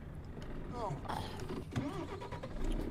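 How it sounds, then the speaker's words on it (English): A Renault truck engine starts up in Euro Truck Simulator 2, cranking and catching into a rumbling idle. It plays under a continuous game background and mixes with other in-game noises. "Can't say I like the sound of this engine too much"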